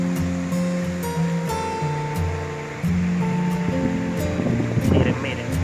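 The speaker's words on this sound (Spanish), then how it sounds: "Miren cómo fluye esa agua cristalina ahí." Clear water flows in a steady, fairly loud broadband rush that runs throughout, with sustained tones layered over it.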